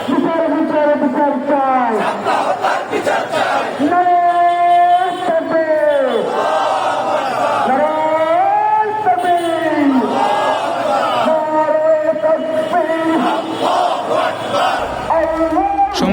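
Protest march crowd rhythmically chanting slogans in unison, a lead voice answered by many, loud and sustained throughout with repeated call-and-response phrases.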